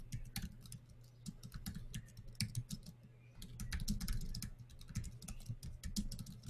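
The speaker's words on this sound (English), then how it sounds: "I'm typing into the chat room what you're saying." Typing on a computer keyboard into an online chat during a council meeting: rapid, uneven clicks and taps in close bursts with short pauses, steady throughout, no voices.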